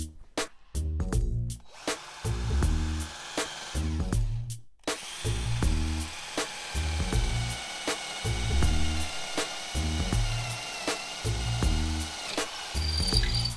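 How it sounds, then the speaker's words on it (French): A power drill bores holes for a compact shelf, its motor whining in repeated short bursts with brief pauses between them, close and loud, with no talk. "amorcez avec un poinçon afin que vous puissiez plus facilement mettre la mèche et forez ensuite les trous"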